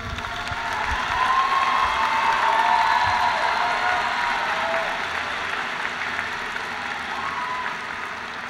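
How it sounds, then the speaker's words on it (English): An audience at a university afternoon commencement ceremony applauds the science graduates, a dense, steady wash of clapping with faint cheering that swells early and then holds without talk. "Let's applaud the science graduates."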